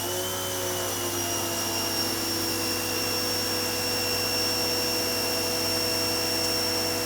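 An AR Blue XWM2300 electric pressure washer sprays through a 25-degree nozzle, giving a steady, unbroken motor whine and hissing water stream with constant tonal hum, close and fairly loud, with no talking.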